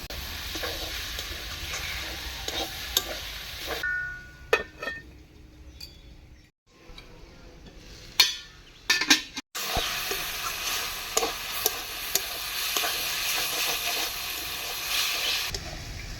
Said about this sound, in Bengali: ঢাকা দিয়ে দিয়ে ভালো করে বাঁধাকপি কষিয়ে নেব।